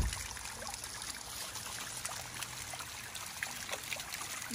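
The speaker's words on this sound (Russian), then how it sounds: "Горный родник." Mountain spring water trickles and burbles in a steady, continuous wash, close by and moderately loud, with no voices.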